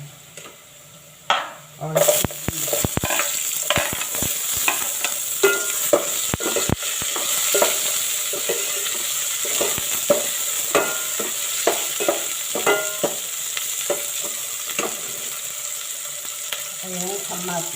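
Chopped onion hits hot oil in a pan beside browned ingredients for a monggo dish, bursting into loud sizzling frying with repeated sharp stirring scrapes and clacks throughout; a voice briefly speaks.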